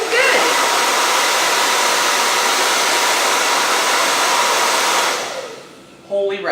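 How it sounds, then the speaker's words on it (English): A blow dryer runs loud and steady at close range in a continuous whoosh, then cuts off near the end, followed by a brief voice. "the blow dryer going into it"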